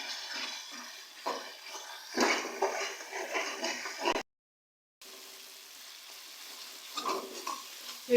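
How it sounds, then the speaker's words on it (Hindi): Masala fries and is stirred in hot oil for chana daal, giving a soft sizzle with scraping spoon strokes against the pan. The sound stops briefly for a moment of silence, then the stirring resumes. "मसाले को हम लोग उस वक्त तक भूनेंगे जब तक ऑयल ऊपर तक नहीं आ जाता।"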